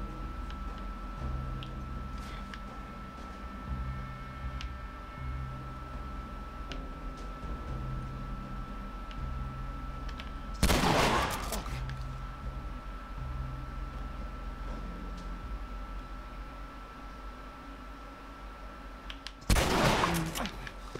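Gunfire in The Last of Us video game: two sharp, loud gunshot bursts roughly ten seconds apart, standing out over a quiet background of low game ambience and faint ticking.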